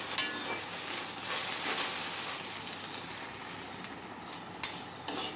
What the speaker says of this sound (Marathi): कमी फ्लेमवर ही भेंडी जी आहे छान अशी परतून घ्या।